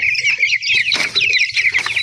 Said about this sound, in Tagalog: So ayan nga yung mga sisiyo natin na malalaki na.